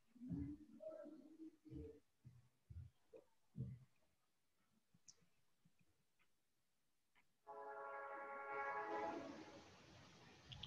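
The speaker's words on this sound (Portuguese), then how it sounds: "Olha o trem." A train horn sounds in the latter part, a sustained harmonic blast with rumble, after faint speech and scattered background noises.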